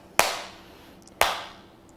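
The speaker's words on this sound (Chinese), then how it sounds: "然后呢也拍手。" Two sharp, close hand claps land about a second apart as part of a dance move, each ringing briefly before fading, with no voices.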